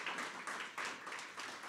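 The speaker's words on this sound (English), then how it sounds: "Let's give them a round of applause, please." A panel-event audience gives a short, faint round of applause: light, patchy clapping in a few quick bursts, heard from a distance.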